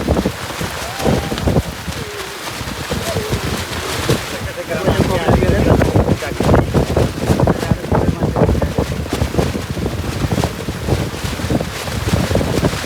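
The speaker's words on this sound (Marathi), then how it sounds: "पाऊस आणि वारा पण किती लय जोरात आहे" Loud, blustery wind buffeting the microphone with heavy rain pouring down, a roaring, gusty wash of noise; a voice speaks now and then underneath.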